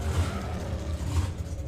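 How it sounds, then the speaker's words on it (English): Methanol-fuelled drag racing car at a Santa Pod Raceway hot rod meet, its engine running with a loud, rough low-pitched rumble that stays steady throughout. "That sounds very much like a methanol engine."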